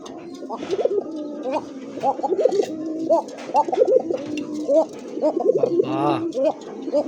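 Pigeons kept for sale coo repeatedly, the soft rolling calls coming from close by in overlapping bursts with a few chirps, while voices of people sound in the background.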